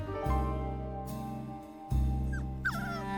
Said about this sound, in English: Next stop for our costume crusaders, Rio, a puppy cafe.